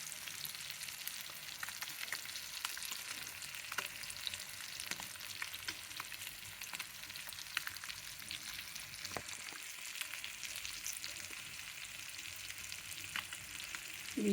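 Okra pieces frying in a pan, a steady broad crackling sizzle with scattered sharp pops that holds evenly throughout, close and moderately loud with no voices.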